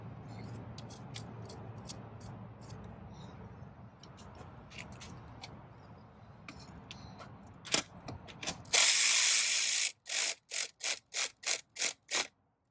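A ratchet clicks while tightening a bolt on a Mercedes-Benz BlueTec diesel engine during idler pulley and tensioner work, first soft and scattered, then a loud burst and a run of sharp, evenly spaced ratcheting strokes close by.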